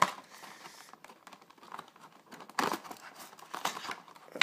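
A knife slices through packing tape on a box during an unboxing, making quiet, irregular scratchy cuts and crinkles close by.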